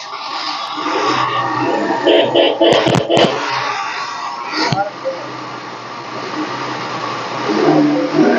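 A 2014 Yamaha Alpha scooter in good condition starts up and runs at a steady mid-pitched idle with a few brief revs, close by, with a person talking over much of it.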